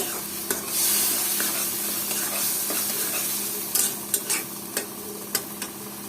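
Dried fish (shutki) is stirred with turmeric, chili and spices in a pan alongside helencha greens, soft sizzling under scraping and several sharp clinks of a utensil against the pan toward the end.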